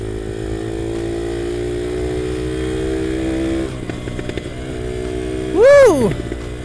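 A revived UM DTF 150 dirt bike engine drones steadily at riding speed, then dips and surges into a loud, rising rev near the end, with wind noise over a voice.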